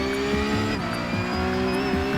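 Race car engine at full throttle in a racing game, a loud, sustained high-revving whine with a quick shift dip partway through, steady and close.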